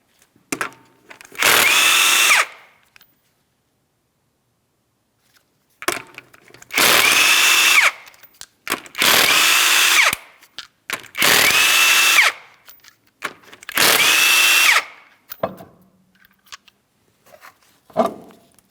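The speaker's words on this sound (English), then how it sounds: "you're going to remove all 5 of your 19mm lug nuts" A pneumatic impact gun spins off five 19mm lug nuts from a 2007-2014 Ford Edge wheel, loud whirring bursts of about a second each separated by pauses, close up with no talking.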